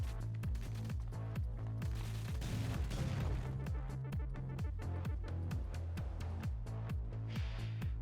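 Rapid weapon fire in the twin-stick shooter Assault Android Cactus+: a continuous stream of punchy, evenly spaced shots with heavy low thumps, loud and unbroken throughout.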